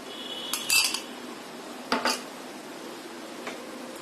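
Spoon clinks and scrapes in a bowl while chicken is stirred together with beaten sour yogurt and a prepared spice paste for chicken hariyali, in two short bursts of clatter with quiet gaps between.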